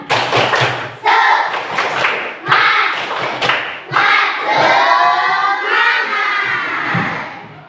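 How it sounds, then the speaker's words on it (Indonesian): Schoolchildren in a fourth-grade maths class perform the rhythmic tepuk semangat clap, loud sharp claps in patterned groups close by, mixed with shouted chanting voices and some thumping. "kita tepuk semangat dulu ya"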